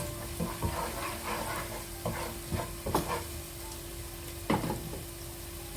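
Onions, ginger and garlic stirred in a hot pan for a desi-style pasta, with a steady low sizzle and repeated scraping strokes of the spoon, close and moderately loud, no talking.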